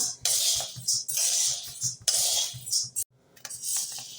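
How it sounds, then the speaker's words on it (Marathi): Wheat grains dry-roasting in a pan, with bursts of crackling and popping mixed with the scrape of stirring, coming in uneven waves that briefly drop out before resuming. "हे पहा आपले गहू फुटायला लागले आवाज येतोय"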